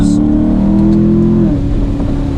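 An extremely loud C7 Corvette rolling onto the throttle through a long mountain corner, its engine droning with a strong steady tone that shifts and eases partway through, close and dominant.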